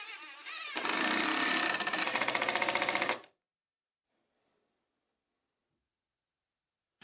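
A homemade wooden band saw bites through the table insert to cut the blade slot, a loud buzzing, rattling whine lasting about three seconds before cutting off into silence.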